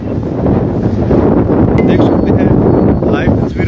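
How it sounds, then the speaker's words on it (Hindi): Strong wind blows steadily in Dharamshala, a loud, close buffeting rush across the microphone lasting the whole stretch, with a faint voice underneath. "किस तरह से धर्मशाला में तेज हवा चली है। ये जो हवा चली है काफ़ी देर से चली हुई है"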